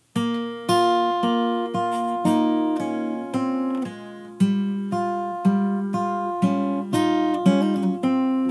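Fingerstyle acoustic guitar plays the melody of a song, a steady run of clearly plucked notes over a low bass line, close and fairly loud with no talking.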